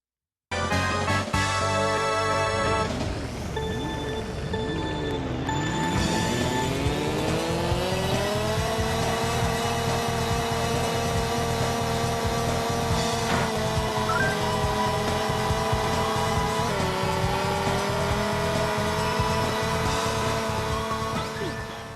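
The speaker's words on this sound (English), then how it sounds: "It's too bad the driving noises are so loud" Engine whine and driving noises from Mario Kart on Rainbow Road, with a loud sustained kart engine drone that rises in pitch as the kart accelerates, plus skids and electronic game tones. The sound runs continuously for over twenty seconds.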